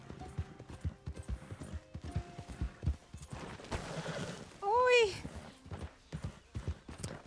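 Horse hooves clip-clop steadily through a Red Dead Redemption 2 game scene, with a brief whinny midway, under a player talking over the gameplay.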